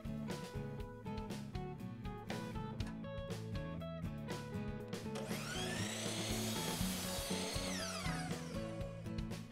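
Power saw cutting southern pine pieces for a bird feeder, with a rising whine and a bright sweeping cut in the second half, over a background of steady music.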